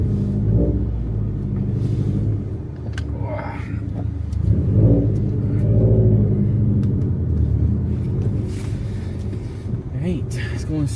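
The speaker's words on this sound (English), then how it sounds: "Let's take it for a spin, see what it's like on road, but just revving it," A Subaru WRX STI engine, modified to sound rowdy, rumbles and revs repeatedly at close range, its deep, throaty drone swelling and falling while someone talks over it.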